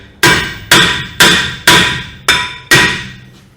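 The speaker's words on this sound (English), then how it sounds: "Sometimes if you just tap it with a hammer" A hammer strikes a worn brake rotor six times in an even rhythm during a basic brake job. Each blow is a loud, sharp metallic bang with a short ringing decay, close by with no talk.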